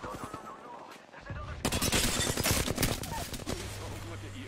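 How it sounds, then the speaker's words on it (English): A dense burst of rapid gunfire erupts in an Apex Legends ranked match, close and loud cracks firing in quick succession after a quieter opening with a voice talking. "Shots fired and they're hitting me."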